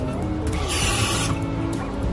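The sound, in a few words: water being added to pan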